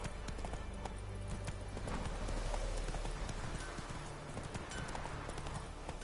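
Roach, a horse in The Witcher 3 game, gallops steadily, a dense run of hoofbeats holding a constant, moderately close rhythm across the whole stretch without pause.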